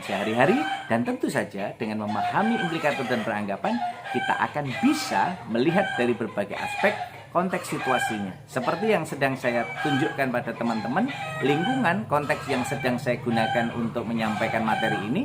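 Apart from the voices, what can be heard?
rooster crowing in a village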